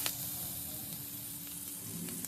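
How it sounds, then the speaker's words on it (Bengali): Chopped garlic and onion with turmeric and salt fry in a pan of oil for pumpkin paste, giving a steady close sizzle throughout with a few faint stirring scrapes. "রসুন পেঁয়াজটা ভাজা হয়ে গেলে আমি এই তিলটা দিয়ে দেব।"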